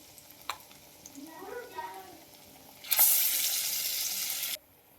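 Stale chapati pieces and vegetables frying in hot oil, a loud bright sizzle bursting up and holding for under two seconds before cutting off, preceded by faint clinks and stirring.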